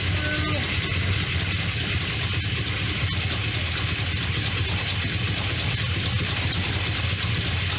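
Big block Ford station wagon engine idling during a tune-up, a steady, loud, even rumble with a constant low drone throughout and faint clicks over it.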